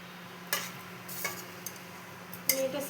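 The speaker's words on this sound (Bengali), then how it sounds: "আর একটু মিলিয়ে নেব।" Loti shrimp curry being stirred in a pan, with a few scattered scraping and clinking strokes of a utensil against the metal over a quiet background hum, loudest near the end.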